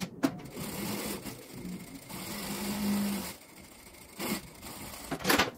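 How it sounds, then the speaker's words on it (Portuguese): A sewing machine stitches a pocket onto the lining of a small fabric case, running in a few steady buzzing bursts with short pauses between, close up and without speech. "passa uma costura prendendo o bolso no espelho."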